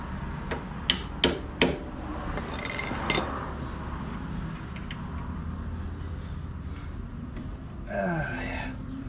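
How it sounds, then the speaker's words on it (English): Three sharp metallic hammer strikes ring out in quick succession while an ATV is being prepped, followed by a few lighter clinks and knocks against a quiet outdoor background. "Hammer."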